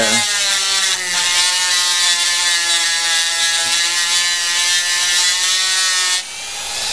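A Dremel rotary tool grinds a bone guitar nut held in a vise, producing a loud, steady high-pitched whine with a slight dip near the start before cutting off toward the end.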